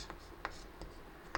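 Pen or chalk writing out an orbital diagram by hand during a chemistry lesson, a few short scratchy strokes, close and quiet.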